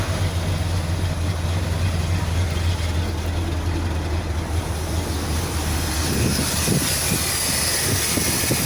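The engine of a 1988 Dodge D350 tow truck with fuel leaking everywhere keeps turning over in a steady low drone, then catches and runs rougher with uneven pulsing bursts.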